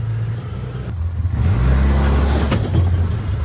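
A cheap side-by-side UTV driving, its engine droning and rising in pitch as it accelerates, steady and close with a low mechanical rumble.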